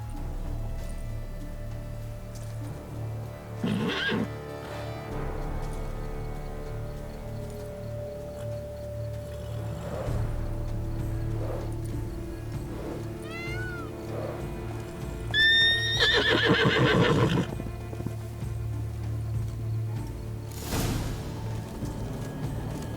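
Horse in The Witcher 3: Wild Hunt (Blood and Wine), whinnying in a few short bursts over a steady low game ambience, with a louder neigh near the end.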